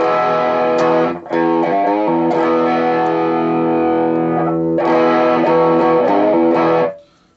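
Electric guitar on the bridge pickup through a small Tube Screamer-style overdrive pedal plays gritty sustained chords and single notes, close and loud, with brief pauses between phrases and no voices.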